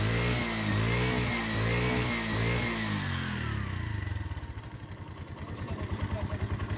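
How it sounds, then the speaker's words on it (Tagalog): Bajaj motor tricycle engine idling after a stepper motor replacement, a steady close putter that loosens into slower, uneven firing pulses toward the end. "hinayaan ko lang umandar yung kanyang unit ng ilang minuto at hindi na bumabagsak yung kanyang minor"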